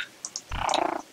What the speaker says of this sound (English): there's little wishing frogs.